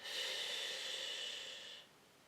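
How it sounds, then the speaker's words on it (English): Steady exhale during a Pilates four-point kneeling exercise, breath drawn in through the nose and pushed out through the mouth, a close, soft airy hiss lasting under two seconds, then quiet. "Breathing in through the nose, out through the mouth."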